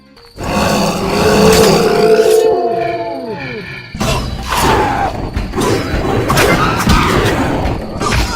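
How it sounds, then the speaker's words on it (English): Hellhounds in The Witcher video game let out loud, drawn-out howls and snarling roars, several wavering cries overlapping and then breaking into rougher growls, with no one talking. "It's those dogs. Those hellhounds."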